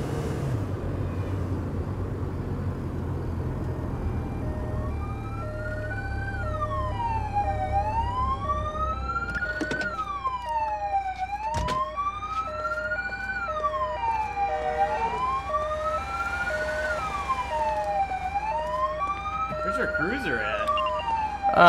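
Ambulance siren in the Police Simulator video game, a wailing tone rising and falling in repeated sweeps over steady engine hum, loud and up close after a brief rumbling start.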